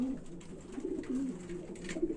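Pigeons coo softly and repeatedly, low throaty calls overlapping at close range inside a pigeon loft.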